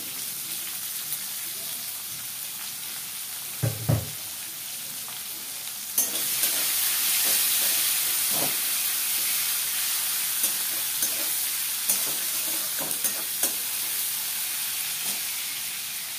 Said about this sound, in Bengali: পেঁয়াজটাকে একটু লালচে করে ভাজতে হবে।